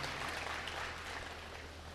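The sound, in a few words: audience applause at the end of a debate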